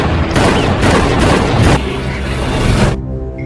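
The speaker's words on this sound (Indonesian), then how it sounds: "Cliff yang menyadarinya segera meluncurkan tembakan ke arah Gina tapi meleset." A dense burst of loud gunfire from a film scene, with several overlapping shots and booms rolling together for about three seconds before cutting off abruptly.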